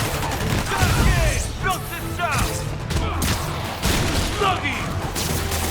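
Bursts of gunfire in Spider-Man Remastered crackle and boom in rapid volleys, with voices talking over the shooting throughout.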